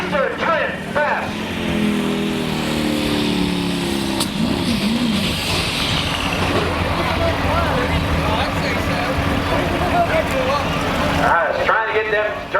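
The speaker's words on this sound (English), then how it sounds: "It's trying to get them turbos to spool up" At a La Plata truck pull, a modified 2WD pulling truck's engine roars loud and steady as its turbos spool up, a dense, continuous mechanical wall of sound, with an announcer talking over it.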